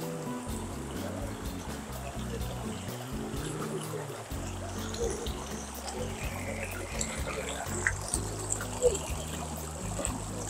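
Río Pita river at Parque de la Armenia in Quito, polluted water flowing and trickling steadily, a continuous close rushing wash with low churning rumble throughout.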